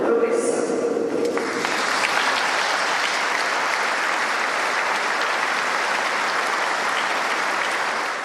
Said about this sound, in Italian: Lacrime e tanti applausi